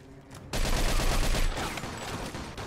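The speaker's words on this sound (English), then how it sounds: "I shouldn't have used the shotgun" In the video game Mafia 2, gunfire breaks out in a dense, loud volley of rapid blasts that starts abruptly after a quiet half second and runs on, thinning slightly toward the end.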